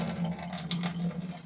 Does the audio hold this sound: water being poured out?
yes